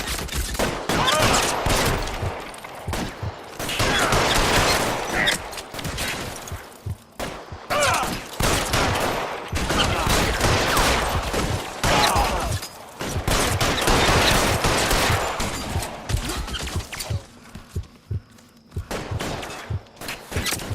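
A gunfight in L.A. Noire brings dense, continuous gunfire, with rapid repeated shots, crashes and thuds over about twenty seconds and brief lulls between the bursts.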